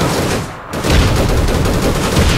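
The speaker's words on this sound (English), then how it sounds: "Watch out, you're getting sniped." Sniper gunfire in the online shooter APB sounds as a loud, dense barrage of shots, briefly cut by a split-second dip before the heavy firing continues.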